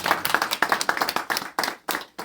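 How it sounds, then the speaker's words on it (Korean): A church congregation at an early-morning prayer breakfast claps in rhythmic bursts, distinct sharp hand claps repeating steadily and close, growing sparser toward the end. "우리 박수로 감사를 드리겠습니다."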